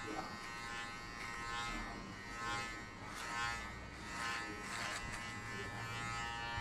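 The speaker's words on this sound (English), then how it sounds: "Use the clipper with every direction." Electric hair clippers buzz steadily during a buzzcut, a close, continuous drone that swells and dips softly as the blades pass over the head.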